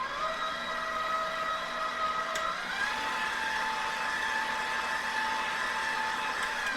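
An electric mixer whirs steadily through lemon poppyseed pound cake batter, a continuous close motor drone that shifts slightly in pitch midway and runs alone without speech.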